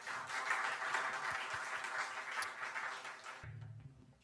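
A congregation at a church youth worship service claps together in a soft, continuous patter that holds steady for a few seconds and then stops abruptly, leaving a faint low hum.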